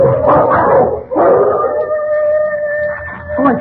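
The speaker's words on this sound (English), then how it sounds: "Oh, it's them dogs. They're fighting again." Dogs fighting in a radio drama, with loud close barking, snarling yelps and a long drawn-out howl, heard alone in overlapping bursts.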